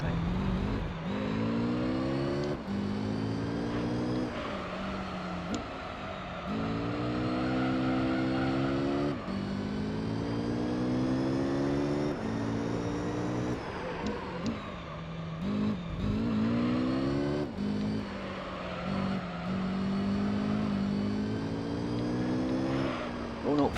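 A Mazda RX-7 race car in Gran Turismo 3 roars continuously, its engine climbing through repeated revving sweeps and dropping at each gear change, loud and constant, with a voice talking over it now and then.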